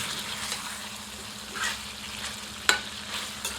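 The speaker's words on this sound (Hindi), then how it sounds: "मसाले को आप जितने धैर्यपूर्वक भूनेंगे, आपका व्यंजन उतना ही स्वादिष्ट बनेगा।" Masala spices fry in a pan with a steady close sizzle, punctuated by occasional scraping strokes of a stirring spoon, one sharper clink standing out midway.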